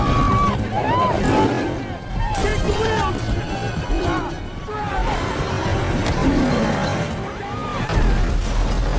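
In a scene from the film Beast, a car skids and crashes at the edge of a ravine, with engine roar and jolting impacts. A voice narrates over the action, and people shout.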